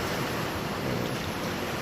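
Fast-flowing floodwater at a record-high level rushes past an elephant shelter, a dense, even roar of water with no pauses, close and loud, and no voices.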